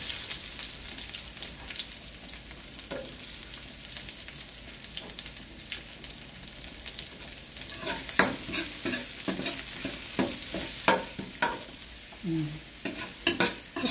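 Garlic and onion sautéing in hot oil, a steady sizzle throughout with stirring scrapes and clacks growing louder and busier in the second half, no talking.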